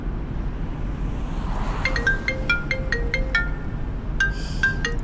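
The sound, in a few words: phone ringing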